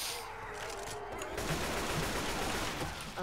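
Sustained gunfire from Left 4 Dead 2, a dense fusillade of shots in a zombie-fighting scene, loud and continuous throughout with little letup.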